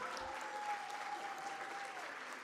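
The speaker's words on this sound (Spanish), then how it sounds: "un aplauso para Sanofi, muy merecido" Applause from an audience at a corporate awards ceremony for shared-services best practices in Colombia. Steady, dense clapping runs throughout at a fairly faint level, with no voices standing out.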